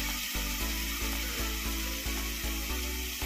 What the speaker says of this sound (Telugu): ఇప్పుడు మనం మరొక బాండిట్లో వేసుకొని నూనె పోసి వేయించుకోవాలి.